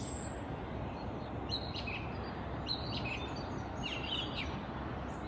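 Birds chirp and tweet in scattered high calls on a misty morning by the sea, fairly distant and soft over a steady low roar of surf, with no talking.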